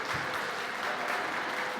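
Audience at a conference on toxic drug harm reduction breaking into steady, continuous applause with some cheering, a dense wash of clapping heard from the room without any speech over it.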